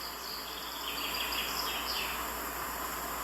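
Faint, high chirps from birds in a park drift over a steady outdoor hiss, with short repeated calls in the distance.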